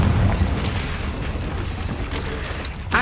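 Confringo blast spell from Hogwarts Legacy, a heavy booming explosion that hits loud at the start and rumbles on continuously, with a sharp crackling burst near the end; no talk over it.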